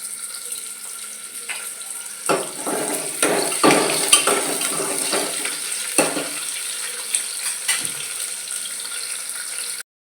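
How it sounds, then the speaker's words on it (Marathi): Onion sautéing in a pan for Maharashtrian rajma masala rice, heard as a steady close sizzle with scattered scraping and stirring knocks against the pan, no voices. "त्यामध्ये कांदा चांगला परतून द्यायचा"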